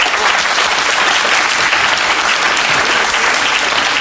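Dense, steady applause from a TV talk-show studio audience fills the whole stretch, loud and continuous without pause.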